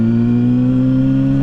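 A Kawasaki Ninja ZX6R motorcycle engine holds a loud, close, steady droning hum while the rider shifts gears, with no clear rev change across the short stretch.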